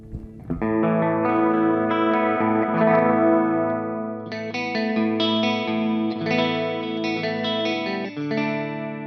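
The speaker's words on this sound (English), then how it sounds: "It's a pretty chorus." An electric guitar played through a chorus effect on a Positive Grid Spark or Mooer SD30i practice amp, with sustained shimmering chords that change every second or so, loud and close with no talking.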